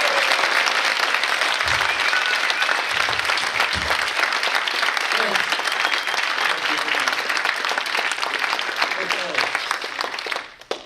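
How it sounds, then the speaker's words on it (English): A full audience rises to give a rousing round of applause at a business conference speech, dense steady clapping filling the room for about ten seconds before tapering off abruptly. "I need you all to stand up and give a rousing applause to my friend"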